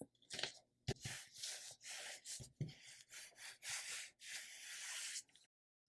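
A Cricut cutting machine cuts black faux leather on a standard grip mat, making a series of rasping, whirring passes broken by short pauses. It sounds close and even, then stops abruptly at the end.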